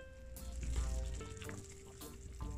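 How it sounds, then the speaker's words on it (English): Sea moss boiling down in a pot on the stove, a steady close bubbling and sizzling that runs continuously with small crackles and a low rolling rumble. "I'm gonna let this boil right down and then I'll come back"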